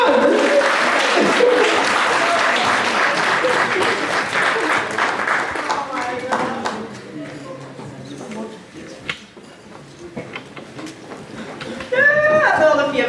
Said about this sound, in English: Clap, everybody, come on!